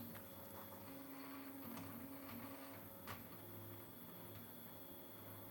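A 3D printer runs steadily while printing a Captain America Wakanda shield prop, its motors whirring and buzzing continuously at close range with faint tonal steps and small clicks, and no talk.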